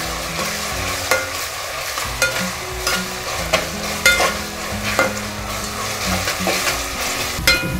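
Ginger garlic paste frying in a pan for veg pulao, with a continuous bright sizzle and repeated spatula scrapes at a steady pace, close and fairly loud.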